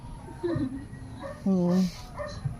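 A dog at a rural hut gives short whimpers and one louder, higher whining yelp up close, mixed in with people talking nearby.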